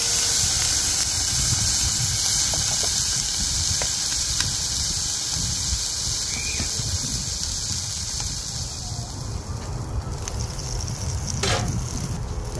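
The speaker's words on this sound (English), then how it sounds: "we'll dome it, a little bit of water and steam," Water hissing into steam under a dome over a griddle to melt cheese on a canned-meat sandwich, a steady close sizzling hiss that runs the whole time with small clicks and scrapes.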